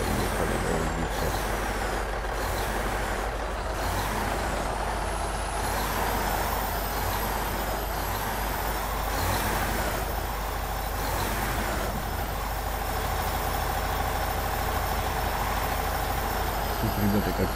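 Heavy DAF XF-105 truck diesel in the Spin Tires game rumbling steadily and loud throughout, with air-brake hisses and mechanical whine layered over the continuous engine drone.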